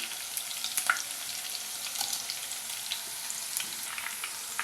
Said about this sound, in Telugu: ఆవాలు జీలకర్ర వేగాయి సన్నగా తరిగిన పచ్చిమిర్చి ముక్కలు రెండు ఎండుమిర్చి ముక్కలు